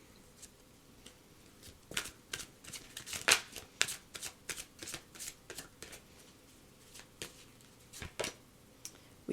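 Tarot cards are shuffled and handled close up, with a string of soft, quick riffling flicks and taps in uneven bursts, quiet and with no voice over them.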